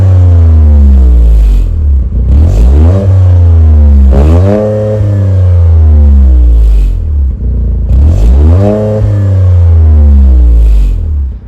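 A turbocharged 1.6-liter three-cylinder in a 2023 Toyota GR Corolla revs repeatedly, its pitch climbing in sweeping rises and falling back between bursts. The engine sounds loud and close, with a steady rumbling idle underneath and no talking.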